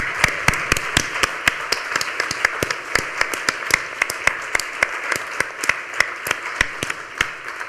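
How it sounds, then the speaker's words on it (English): Audience applause at an animal welfare conference, a steady round of clapping with sharp individual claps standing out from the dense patter, moderately near and continuous without voices. "A big round of applause again, please."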